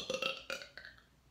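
A single short burp from a person, with a rough voiced rumble that fades out within about a second, close and on its own.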